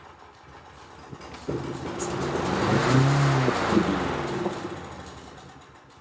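A small 2-stroke engine in need of a carburetor rebuild sputters to life, builds to a buzzing run with rising pitch around mid-clip, then fades back down, close and moderately loud.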